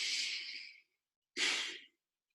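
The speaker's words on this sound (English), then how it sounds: "Now take some really deep breaths and shoot it out." Two forceful exhalations during a yoga breathing exercise, each a breathy rush of air, the first lasting under a second, a brief silence, then a shorter second burst, close and clear.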